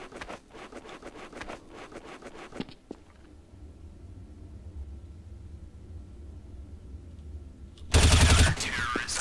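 Gunfire in the Counter-Strike: Source video game, with a quick burst of rapid automatic shots at the start, a quieter stretch of low rumble, then a loud, dense blast of fire near the end.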